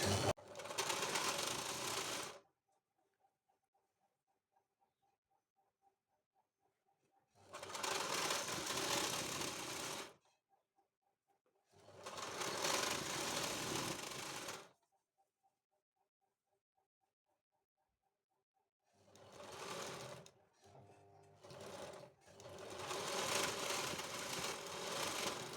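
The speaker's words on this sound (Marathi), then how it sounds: "आता मी इथे बाहीला टीप टाकून घेणार आहे." A sewing machine stitches a full blouse sleeve in several loud, steady whirring runs, separated by near-silent pauses, with a faint ticking between bursts.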